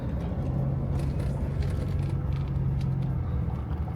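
A car climbing a hill road around Wat Huay Mongkol after rain: a steady, close engine and tyre rumble holds evenly throughout, with no speech.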